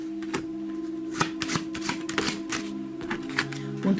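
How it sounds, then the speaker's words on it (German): A Skat deck of playing cards being shuffled by hand, a close run of crisp riffling flutters and sharp slaps repeating in quick bursts, with no one speaking. "Ich mische die Karten."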